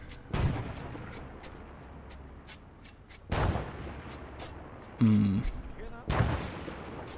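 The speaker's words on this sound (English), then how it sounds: "There's mortars landing behind us." Mortar shells from a military co-op video game set on Chernarus land nearby in a few heavy booming impacts spread across several seconds, amid low battlefield rumble and faint radio-like chatter.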